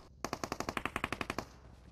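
Automatic fire from UMP and MG3 guns in the Peacekeeper Elite video game: one quick burst of about thirteen evenly spaced shots rings out, then a brief fading tail, heard faintly at a distance.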